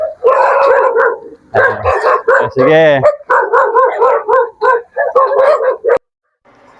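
Several dogs bark in loud, close bursts, with one drawn-out howl in the middle; a brief spoken word comes near the start.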